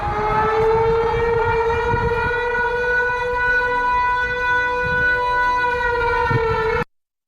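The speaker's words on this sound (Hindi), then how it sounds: "सायरन बजाए जा रहे हैं" A steady, loud civil defense siren, sounded in Pune, India, to warn of a leopard sighting, wails continuously for about seven seconds on a sustained pitch, then cuts off abruptly, with a low rumble underneath.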